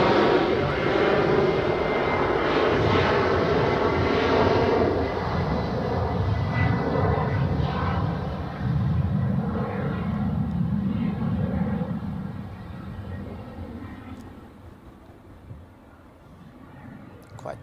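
An airplane takes off from a runway at Zurich Airport on a flight to Bologna, heard as a loud, sustained engine roar that slowly fades as it climbs away in the distance.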